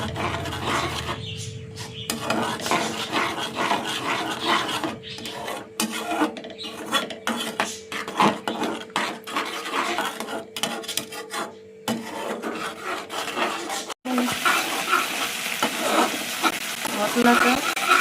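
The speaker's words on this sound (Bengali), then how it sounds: "মশলাটা কষাতে কষাতেই খুব সুন্দর একটা গন্ধ ছাড়বে।" Spice paste is stir-fried in a pan for doi katla, a yogurt fish curry. A spatula scrapes and stirs in a steady rhythm over a low, constant sizzle, and near the end the frying turns brighter and louder.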